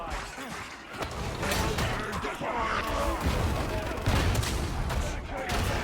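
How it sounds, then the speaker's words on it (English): A stun grenade goes off in the Warhammer 40,000 game Darktide amid heavy combat noise, with crashing impacts and bursts layered over a continuous din, while a voice talks at times. "I threw a grenade real quick. I don't know if anyone saw it. This is a stun grenade."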